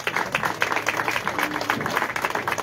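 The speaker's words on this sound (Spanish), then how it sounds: "Aplausos, por favor." Applause from an audience at an outdoor inauguration ceremony for a rehabilitated sewer system in Tenango de las Flores, steady clapping carrying on throughout with some crowd murmur beneath.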